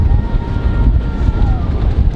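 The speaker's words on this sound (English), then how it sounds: "So goddamn windy, holy shit." Gale-force wind batters the microphone in loud, continuous low buffeting gusts, close and rough, with no other sound standing out.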